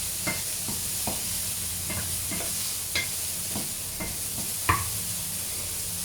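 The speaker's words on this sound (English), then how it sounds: "Stir it a little while." Noodles stirred in a hot frying pan at reduced heat for Chinese home cooking, a steady sizzle with about a dozen sharp scraping clicks from the utensil at irregular intervals, close by and with no talk.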